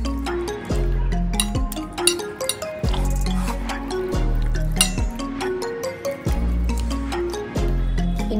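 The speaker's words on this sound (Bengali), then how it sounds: "এটাকে আমি এবার এর মধ্যে ভালো করে একটু মাখিয়ে নেব।" Pomfret fish being worked by hand in a spice marinade for an air-fryer roast, giving repeated wet squishing and slapping with soft clinks in a close, steady rhythm and no voices.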